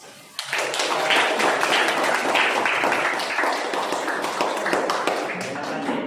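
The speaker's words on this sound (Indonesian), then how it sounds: "Kalau tidak, beri aplaus" An audience in a classroom discussion session bursts into sustained applause, many hands clapping loudly and steadily for several seconds before gradually tapering off slightly.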